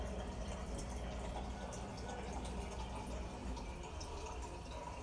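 Water pours or fills a vessel in a kitchen while a tuna casserole is being made, a steady close gurgling wash at moderate volume with no talk over it.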